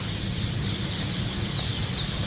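Young chicks on a poultry farm peep and cheep continuously around water drinkers during vaccination through the water, a dense, steady high chorus over a low barn hum with no talking.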